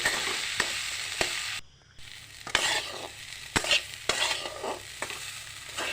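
Rajma being stirred with mixed spices in a sizzling pan: a steady fry hiss under sharp, repeated scrapes and clinks of a spoon against the pan, with a brief lull partway through.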